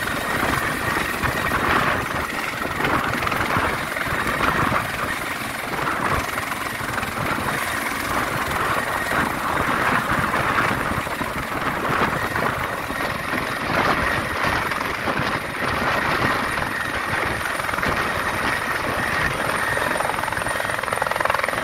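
A helicopter hovers over a small pool to fill water, its steady, loud rotor and engine roar holding without a break throughout, with no voices.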